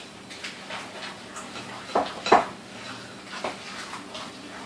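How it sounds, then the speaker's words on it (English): Oats get stirred into oatmeal cookie dough in a bowl: soft, muffled scraping and a couple of brief clinks of the spoon against the bowl, close and fairly quiet without talk. "1 cup of oats, which I measured, going in. Stir, stir, stir, stir, stir."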